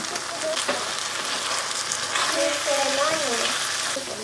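Pad thai stir-fries in a pan with pad thai sauce, a loud continuous sizzle and crackle close up, with a faint murmur of background voices underneath.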